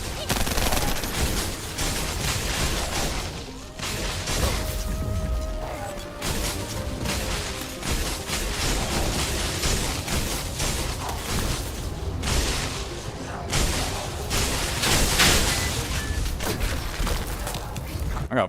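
Sniper rifle fire in the shooter game The First Descendant, heard among dense, continuous gunfire and explosions that keep a loud, busy barrage going throughout.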